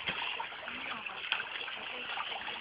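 Stream water splashes and trickles steadily where people bathe and do laundry, a close, continuous wash of water with a brief louder splash near the start; voices are faintly present underneath.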